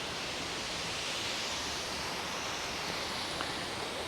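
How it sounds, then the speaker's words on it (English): The Khlong Phlu waterfall in the Ko Chang jungle, Thailand, pours as a steady, broad roar of rushing water that holds even and unbroken throughout. "The Khlong Phlu waterfall."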